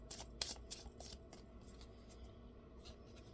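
Tarot cards shuffled by hand, a few quick riffling bursts at the start followed by softer rustling, close and quiet, with no talking.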